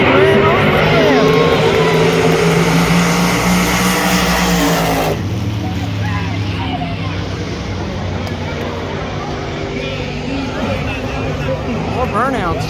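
A 1966 Chevy II drag car called Big Red roars through a burnout at a night drag racing event, its loud, strained engine note shifting midway, with an announcer talking over the noise.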